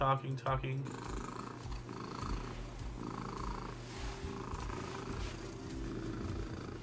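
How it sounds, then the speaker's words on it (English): A cat purrs steadily and close up, a low rumbling drone after a brief noisy start, continuing evenly throughout. "I gotta hear this loud purr"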